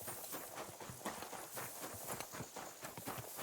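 Horse hooves clip-clop steadily in the video game Kingdom Come: Deliverance 2, a fairly loud, rhythmic walking beat of repeated soft thuds over a constant background wash, with no talking.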